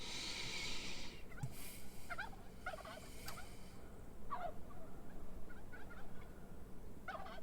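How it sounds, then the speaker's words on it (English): Turkeys in the farming video game Farm Together gobble repeatedly, with short rattling calls spaced through the clip at moderate loudness over a soft ambient bed, joined by a brief hiss near the start. "Looks like there's some ostriches down there, some turkeys."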